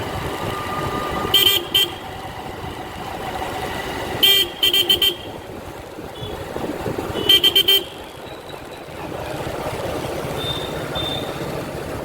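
Heavy truck traffic jammed on the NH-06 highway between Sakoli and Bhandara, with a steady engine rumble broken by several loud, clustered bursts of vehicle horns honking nearby.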